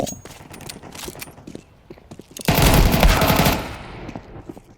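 Video game gunfire, a loud sustained automatic burst of about a second after scattered lighter clicks and taps, then tailing off into quieter action noise.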